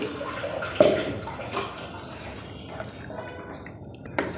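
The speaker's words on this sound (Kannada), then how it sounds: "ನಾನು ಸ್ವಲ್ಪ ನೀರು ಕೂಡ ಸೇರಿಸ್ತಾ ಇದ್ದೀನಿ" Water poured into chicken masala with ground tomato, coriander and mint in a pan, a soft splashing pour with wet squelching stirs and a couple of sharp clinks, close and quiet.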